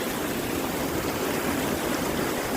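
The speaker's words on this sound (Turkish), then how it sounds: "Şıkır şıkır, şırıl şırıl. Selale." A small mountain waterfall on Erciyes Koç Dağı in Turkey, a dense, constant rush of falling water heard close and loud, steady throughout with no voices.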